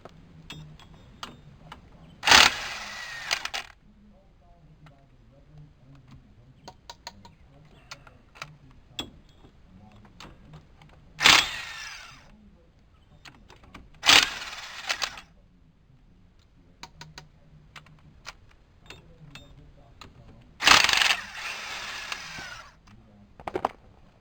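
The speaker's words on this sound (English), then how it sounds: "I got my impact driver set up with a 14 millimeter" Short bursts from an impact driver fitted with a 14 mm socket, working on the rear axle nuts of a Toyota Tercel 4WD, come in four separate loud rattling blasts spaced apart, with quiet clicks and handling noises between them.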